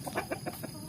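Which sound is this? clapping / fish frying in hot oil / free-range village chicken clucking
free-range village chicken clucking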